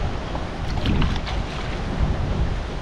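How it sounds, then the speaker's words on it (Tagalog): Gusty wind rushes loudly across the microphone, a continuous low roar with no voices. "Pasensya na po kayo kung mahangin."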